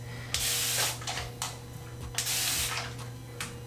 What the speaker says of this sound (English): my handy dandy spray bottle to keep my hair wet